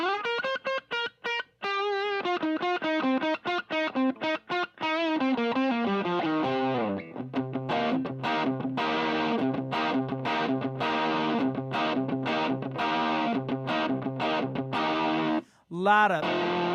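An electric guitar plays through a ValveTrain Ghost 211 amp in a driven classic rock tone, first quick picked runs, then repeated chugging chords for a long stretch, ending with a brief pause and a final strum.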